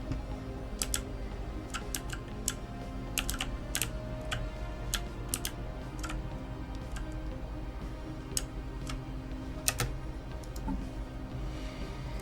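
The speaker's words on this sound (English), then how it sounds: "This keyboard is great." Steady typing on a computer keyboard during a Stellaris strategy game session, with crisp, close key clicks in an uneven run, some quick bursts and pauses, over a constant low background hum.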